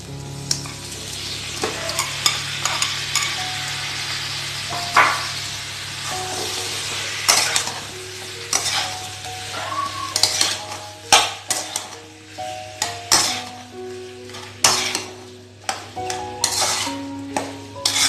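Continuous sizzling of boiled pork frying with spices and tomatoes in a pan, with frequent metallic scrapes and clanks of a spoon stirring against the pan, close up and busy.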